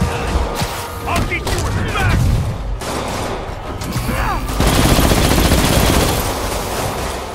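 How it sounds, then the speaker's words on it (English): Machine gun fire in the Marvel's Spider-Man video game, dense bursts of gunfire and booms mixed with game sound effects and music, continuous and loud throughout, with a voice talking over it. "He's got a machine gun on."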